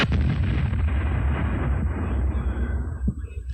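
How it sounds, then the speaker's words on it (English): A live hand grenade thrown during basic training detonates in a heavy, booming blast with a deep rumbling roll that slowly fades, loud and enveloping. "concluding with each trainee throwing a live hand grenade."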